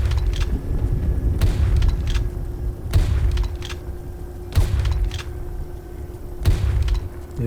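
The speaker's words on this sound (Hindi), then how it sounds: "ये तो मैं ऐसे ही गन चला रहा हूँ।" Gunfire in the video game IGI 1, shotgun-type blasts: about five loud booming shots spaced roughly every one to one and a half seconds over a steady low rumble, no talk.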